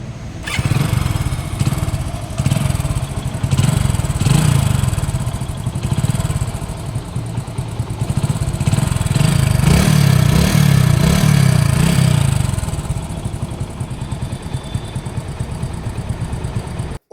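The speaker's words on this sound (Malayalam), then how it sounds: "ഈ വണ്ടി ഒന്ന് സ്റ്റാർട്ടാക്കിയാൽ നിങ്ങൾ ആ എഞ്ചിൻ്റെ സൗണ്ട് ഒന്ന് കേട്ട് നോക്കും" A motorcycle engine catches and settles into a steady rumbling idle, swelling briefly in the middle before easing back to a chugging tick-over.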